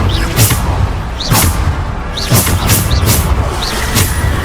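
Bombarda spell blasts in Hogwarts Legacy on PS5, a run of five or six loud, sharp booms with whooshing tails, repeating at roughly regular intervals close up.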